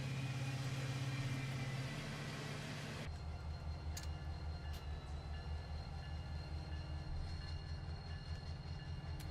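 Four powered locomotives rumble steadily in the Run8 train simulator on the SOCAL line, with a deep continuous engine drone and rail noise. The pitch shifts partway through, and a few faint clicks sound over the loud, even hum.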